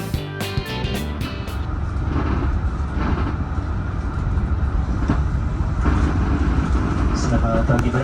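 The Dharma Wangsa passenger train rumbles steadily from inside a carriage, a continuous low rolling din with faint clicks, while an announcement voice is heard over it.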